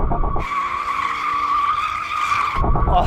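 Tyres on a Mercedes-AMG GT squeal loudly in a sustained screech for about two seconds while the car drifts, with the engine roaring underneath before and after.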